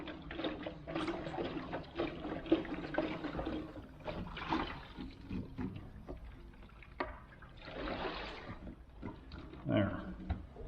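Liquid de-rusting solution sloshing inside the fuel tank of a Vulcan 900 motorcycle, coming in irregular bursts of washing and swirling with a stronger surge near the end, mixed with brief bits of someone talking.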